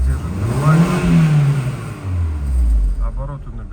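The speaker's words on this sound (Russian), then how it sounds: "Обороты набирают хорошо." A VW Golf 4 with a 1.6i AZD petrol engine revs up and falls back twice, the pitch rising and dropping in smooth swells, loud and close.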